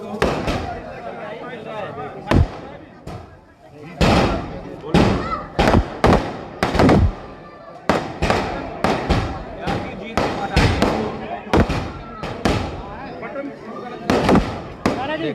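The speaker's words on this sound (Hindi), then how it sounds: "जोरदार आतिशबाजी हो रही है" Fireworks burst at a Congress candidate's election rally in Sihi village, Faridabad: a rapid, loud string of sharp cracks and bangs, some in quick clusters and others spaced apart, with crowd noise and voices underneath.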